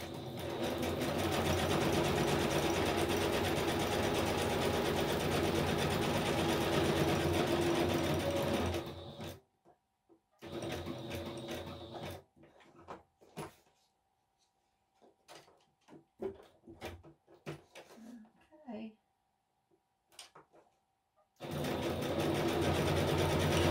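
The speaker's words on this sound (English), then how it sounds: "I'm going to do a quick sew around here." A sewing machine stitches around a paper journaling card in long steady runs, loud and close, stopping for a pause filled with small handling clicks and rustles before stitching resumes.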